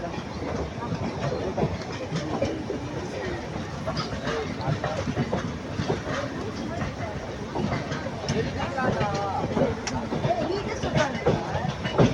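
A passenger train runs at speed near Tiruchirappalli, its rumbling wheels and rattling carriages heard from onboard as a continuous, uneven clatter, with someone talking over the noise.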